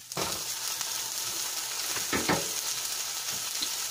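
Tomato dropped into mushrooms sautéing in a hot pan, giving a steady close sizzle and hiss with a few louder stirring bursts near the middle and no talking.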